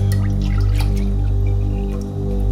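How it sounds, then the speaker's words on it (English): Heavy cream and milk pour into a saucepan on the stove with a soft, close trickle and small drips over a steady low hum. "we'll add all of our ingredients in, starting off with 2 cups of heavy cream, milk"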